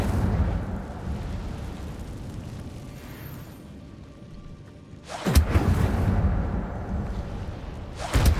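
Incendio fire spell cast in Hogwarts Legacy, erupting as a loud fiery burst after a quieter rumbling stretch, with a second whooshing flare near the end.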